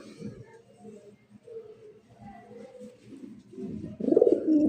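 Fancy club pigeons, a fresh breeding pair, coo in a low rolling rhythm close by, swelling louder and fuller toward the end with no talk over them.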